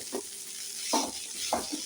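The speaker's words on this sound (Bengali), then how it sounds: "এই আমার আলু ভাজা হয়ে গেছে একটু শুকনো লঙ্কা দেবো গুঁড়ো আর কি আর পোস্তটা ঢেলে দেবো" Poppy seed paste is stirred into frying potatoes in a pan, heard as three short, close stirring scrapes over a faint background sizzle.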